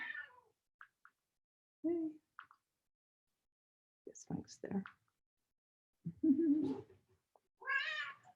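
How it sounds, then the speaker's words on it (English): A pet cat meowing in a quiet home, several short separate meows spaced out, near and fairly soft, with a person speaking briefly in between. "Oh, hello. Here's the kitty."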